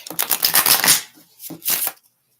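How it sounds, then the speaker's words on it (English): A deck of tarot cards is riffle-shuffled twice in quick succession, a crisp fluttering burst followed by a shorter second one, close and clear. "So I'm just shuffling for a sec."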